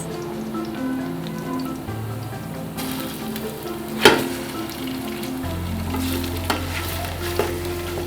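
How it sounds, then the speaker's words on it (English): Minced meat frying in a pan, a steady crackling sizzle with stirring scrapes, one sharp clatter near the middle and a few lighter knocks later, with a low hum underneath. "We are going to fry this until it is brown."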